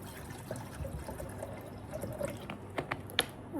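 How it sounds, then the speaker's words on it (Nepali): Water pours from a bottle into a pot to be heated for coffee, a faint, uneven trickle with a few sharper drips and splashes near the end. "अब यता चाहिँ पानी हाल्ने"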